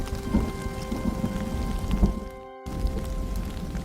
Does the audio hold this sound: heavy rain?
yes